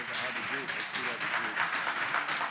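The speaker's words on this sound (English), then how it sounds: "we'll applaud you a second time" Applause rises in the Virginia Senate chamber, a soft, even patter of many hands clapping while a voice keeps talking over it.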